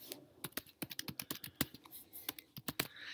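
Someone types a street address into an online PPP loan application form on a computer keyboard, producing a steady stream of quick, irregular key clicks close to the microphone, with no talking.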